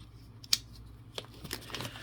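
Scissors cut into the plastic packaging of a Spanish Armed Forces A-5 combat ration, a few quiet, close snips and crinkles.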